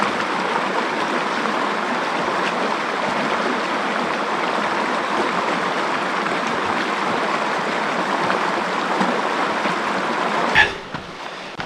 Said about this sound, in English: here's the river. It's time to fill up our water.